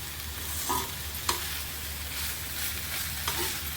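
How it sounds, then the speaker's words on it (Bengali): Fried potatoes are stirred into a Bengali banana blossom curry in a pan, giving a continuous close sizzle with a spoon scraping through it and a few small knocks. "এবার ভেজে রাখা আলুগুলো এর মধ্যে মিক্স করে দেবো।"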